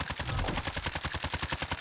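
Rapid automatic gunfire from a CR56 AMAX rifle in the video game Warzone, a loud, evenly spaced burst of roughly a dozen shots in quick succession, with no talk over it.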